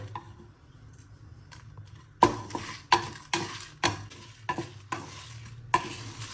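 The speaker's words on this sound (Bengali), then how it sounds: "এবার এটাকে থার্টি সেকেন্ড ভালো করে নাড়িয়ে দেবো একদম আঁচটা কম রেখে এটা করতে হবে" Spices stirred in a pan over a low flame for a Bengali kuler achar (jujube pickle), with a spoon scraping in a steady series of distinct strokes, close and fairly loud after a quiet start, with no talking.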